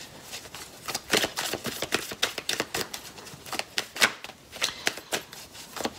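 Tarot cards being shuffled by hand, a series of crisp riffling and flicking bursts at close range, uneven in rhythm, with no talk.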